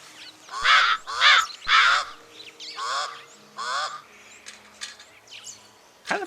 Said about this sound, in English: Kind of a more raspy caw than we often hear.